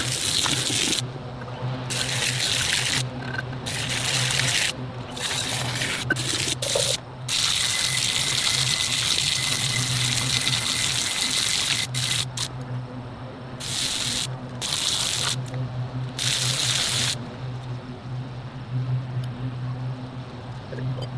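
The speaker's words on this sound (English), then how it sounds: "I'm going to pull these out and rinse them off on the pavement" Cleaned Polaris Ace 900 parts are rinsed with a water spray on pavement, a loud continuous hissing gush broken by brief gaps as the stream starts and stops.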